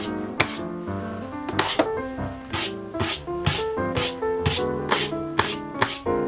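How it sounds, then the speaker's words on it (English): A brush is drawn repeatedly through yarn for a doll wig, with rhythmic scratchy strokes about once per second, close and steady, playing over soft background music. "you're gonna just brush it until you get to the top."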